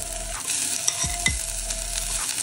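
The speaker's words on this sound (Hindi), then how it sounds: "सबसे पहले इसके अंदर मैं डालूंगी मेरे प्याज" Onions fry in hot mustard oil with a dense, steady sizzle close to the mic, and two brief scraping stirs of a utensil partway through.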